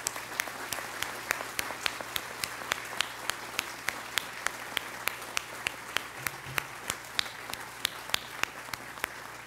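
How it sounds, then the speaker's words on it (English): Applause from an audience at a university pharmacy school event, a dense, steady patter of clapping with sharp individual claps standing out, moderately distant, running continuously over a low room hum. "big round of applause for all of you"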